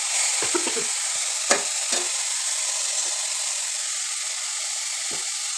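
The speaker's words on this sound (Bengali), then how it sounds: "শাকটা ভাজা ভাজা হয়েছে দেখো।" Leafy greens fry in a pan with a steady, soft sizzle and hiss, and a spoon scrapes and stirs in a few brief strokes.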